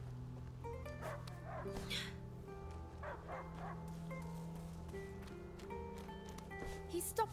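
Dog barking in the dark medieval video game A Plague Tale: Innocence, a steady run of yips and barks sitting under a continuous low droning game score at moderate level.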